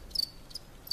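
Crickets kept in a cage in a garage chirp in short, high, faint trills, three brief bursts spaced through a quiet moment.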